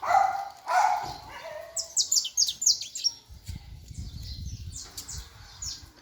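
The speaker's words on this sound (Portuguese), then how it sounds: "Olha os canarinhos pardinhos trocando canto, hein?" Young brown canaries trade bright chirping phrases in quick bursts, loudest in the middle, with a low rumbling noise underneath and brief pauses between calls.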